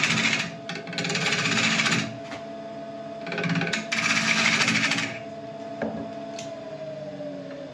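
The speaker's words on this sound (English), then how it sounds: "That horrible chattering, apart from it being slightly off balance, is also because the tool is too far away from the wood" A bowl gouge chatters against ancient oak spinning slightly off balance on a lathe, giving loud, rattling bursts in uneven bouts close by, separated by quieter stretches of the machine's steady hum.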